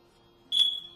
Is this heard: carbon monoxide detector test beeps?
yes